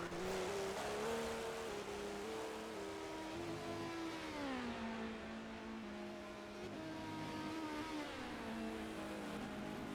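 Race cars lap Silverstone in a sim racing game, their engines droning continuously and rising and falling in pitch through gear changes and corners, steady and prominent with no voices.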